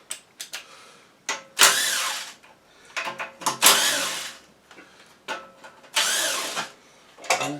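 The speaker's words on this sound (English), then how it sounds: "you've got 4 bolts to take the rocker cover off" Bolts on the rocker cover of a Honda GX160 small engine are spun out with a power tool, in several bursts of whirring that start and stop at close range, with ratcheting clicks in between and no talking.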